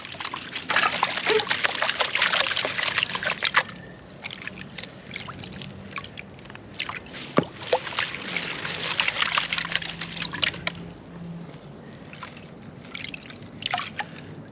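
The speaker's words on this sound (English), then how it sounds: "Now we're gonna pan it out." Gold-bearing material panned in water, with continuous sloshing, trickling and splashing as the pan is swirled, close and fairly loud, easing off and resuming in waves.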